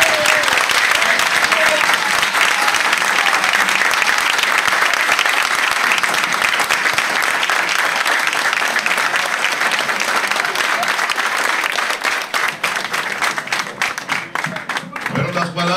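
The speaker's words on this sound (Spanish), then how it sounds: "¡Un aplauso!" An audience applauds after a political campaign speech launching a candidacy for municipal director of La Otra Banda; dense, sustained clapping fills the space and thins toward the end, with voices mixed in.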